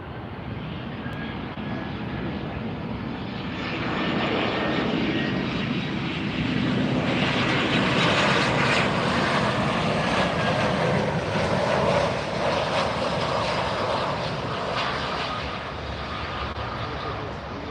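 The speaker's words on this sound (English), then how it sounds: "We've got some cargo jets coming in here at" A cargo jet arriving on runway 9 at Miami International Airport gives a loud, sustained engine roar that swells and holds as it passes close by.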